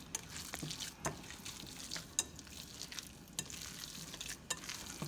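Wet, sticky squelching and scraping of meatloaf ingredients mixed by hand in a bowl, with buttermilk ranch in the mix, in quick irregular strokes at close range; fairly quiet, with no talk.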